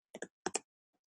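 Four crisp computer keyboard keystrokes typing a command, in two quick pairs, close and clear against silence, with a faint tap after.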